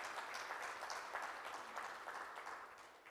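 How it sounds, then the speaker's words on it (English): An audience at an ICAI breakfast meeting applauds a guest speaker, a soft, distant patter of clapping that stays fairly even before tapering slightly. "Give a big round of applause to Mr."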